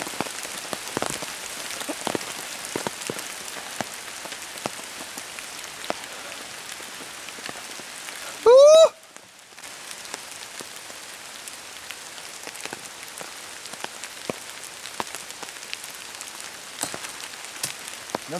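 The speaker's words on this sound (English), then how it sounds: "It's raining." Steady rain patters on surfaces outdoors at a canopy tour site in Lula, Georgia, a dense, continuous hiss of drops with scattered louder taps, briefly broken by a short rising whistle-like squeal near the middle.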